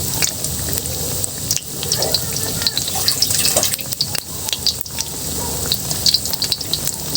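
Eggplant coated in breadcrumbs fries over medium heat in a pan, a steady close sizzle and crackle with occasional stirring scrapes running throughout.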